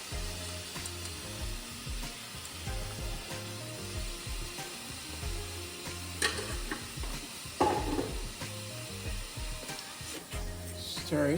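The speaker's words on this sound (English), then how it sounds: "Stir it around." Oxtail cooked Jamaican style sizzles in a pot while being stirred, with a quiet, steady frying hiss and the occasional scrape of a utensil, close and alone.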